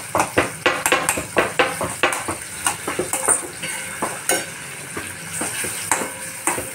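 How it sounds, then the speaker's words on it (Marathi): Onion is stirred and fried in a pan: a continuous sizzle under rapid, regular clacks and scrapes of a spoon against the metal, close and fairly loud. "कांदा छान हलवून घ्यायचा"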